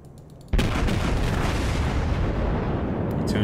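Warship main guns firing in World of Warships, opening with one sudden heavy boom that settles into a loud, sustained rumbling roar, close and with no talk over it.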